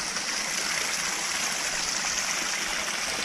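Steady rushing water, a constant broadband roar of a waterfall beside a lake house heard up close, with no voices.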